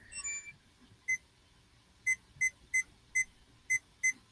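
Beeping of a handheld virtual pet toy: a short burst of chirps, then a string of about seven clear, high electronic beeps at uneven intervals, close and fairly loud over a quiet room.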